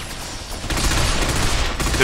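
Photon blast weapon fire in the video game Binary Domain, a dense noisy burst of rapid shots that swells louder partway through and stays harsh to the end.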